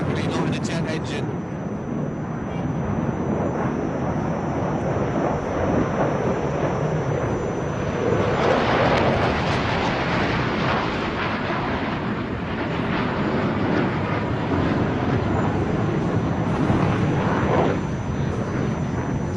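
Twin jet engines of a fighter aircraft at an air show roar steadily and loudly, swelling midway, with a person talking over the din.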